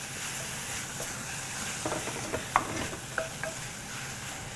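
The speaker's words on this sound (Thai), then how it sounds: "ซีอิ๊วดำครับ แล้วก็ซอสปรุงรสครับ ผัดทุกอย่างนะครับให้เข้ากันดีครับ" Dark soy sauce and seasoning sauce being stirred into a pan, with a steady soft sizzle underneath and a few scraping clinks of the spatula as everything is mixed together.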